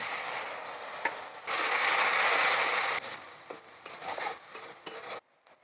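Chili, cumin and coriander powders cook with a little water in a pan for a vegetarian brinjal curry. A utensil scrapes and clinks against the metal, and a loud burst of sizzling rises midway and then fades.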